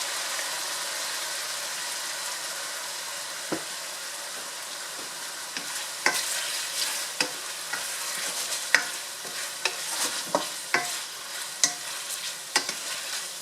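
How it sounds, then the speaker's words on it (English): Pork with soy sauce sizzling steadily in a pan, a constant frying hiss under repeated sharp scrapes and clacks of a utensil stirring the meat, the stirring growing more frequent in the second half. "we're going to add about, I would say, a good tablespoon of soy sauce in here to season the meat"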